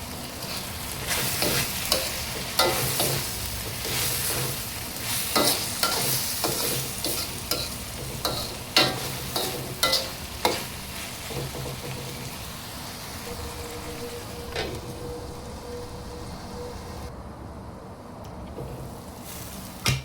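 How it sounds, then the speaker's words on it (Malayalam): Chicken cooking in a pan for homemade macaroni, sizzling steadily while a spoon scrapes and stirs in repeated strokes, then the frying carries on alone. "ഇനി അത് എല്ലാം കൂടെ ഇളക്കിയിട്ട് ഒന്ന് വേവിച്ചെടുക്കാം."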